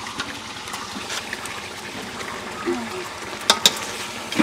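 Raw jackfruit cooks with meat in a pan on a village stove, giving a steady close sizzle with a few sharp clinks of a utensil against the pan.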